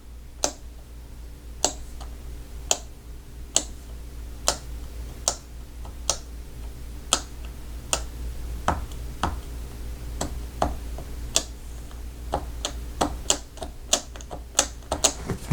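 Leopold FC660C keyboard with Topre switches, keys pressed and released one at a time in a steady, unhurried rhythm, each stroke a soft thud followed by a light snap, heard from a slightly distant microphone over a low background hum.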